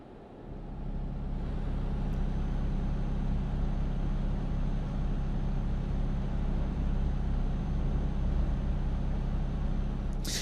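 A truck driving in the Euro Truck Simulator 2 video game, giving a steady, moderately loud engine drone that holds constant throughout with no talk.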